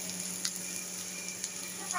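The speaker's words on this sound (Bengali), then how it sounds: "পেঁয়াজটা ভাজতে বসিয়ে দিয়েছি" Onions frying in a pan give a steady, soft sizzle with a few faint crackles, heard alone at low level.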